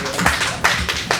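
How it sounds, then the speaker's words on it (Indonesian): A few sharp hand claps, roughly three distinct strikes, from an audience at a film screening and discussion, close and brief with no talking. "Tepuk tangan dulu."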